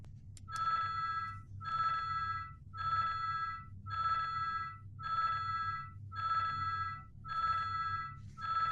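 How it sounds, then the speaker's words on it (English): The Windows telephone ring sound repeats in short regular bursts, about eight rings in a steady loop, clear and close with no voices. "it'll be the Windows ring-in file, and that's going to play in a background loop"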